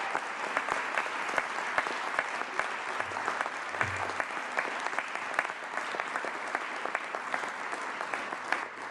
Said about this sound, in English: Give my mom a round of applause.